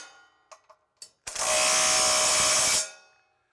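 A Milwaukee cordless impact tool tightens lower bolts on a tractor accessory, with a few short taps followed by one loud sustained burst of whirring and hammering that winds down.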